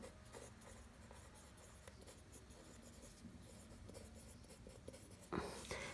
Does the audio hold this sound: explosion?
no